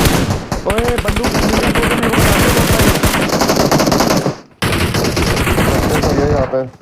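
Rapid bursts of automatic gunfire from a mobile shooter game played on a Redmi phone, loud and near, with a brief gap partway through, while a player's voice talks over the shots.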